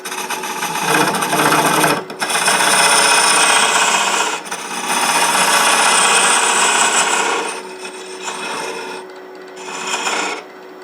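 A woodturning lathe carves a recess into a wooden rook-shaped chess piece box, the tool's loud, continuous rasping scrape running in long bursts broken by short pauses.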